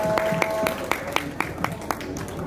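Applause from an audience at a Quran recitation graduation celebration at a Quran school, honoring a child; a steady spread of clapping with rhythmic accented claps, moderately loud and close, with a faint voice beneath.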